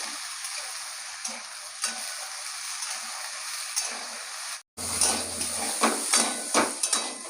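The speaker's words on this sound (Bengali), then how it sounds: "আলু কেঁচে ডুমুর একসঙ্গে দিয়ে দিয়েছি তেলে ভালো করে ভাজবো" Diced potatoes and figs fry together in hot oil for a papaya curry, a steady close sizzle broken by a brief pause midway, then louder with stirring scrapes and utensil knocks against the pan.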